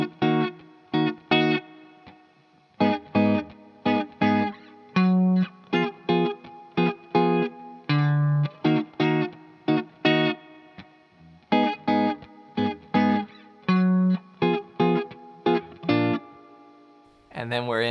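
Electric guitar with effects playing the six-bar pre-chorus progression from a song, in choppy rhythmic chord stabs with short gaps, loud and close with no talking.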